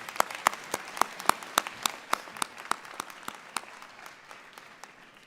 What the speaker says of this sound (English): Graduates, let's give our loved ones a round of applause.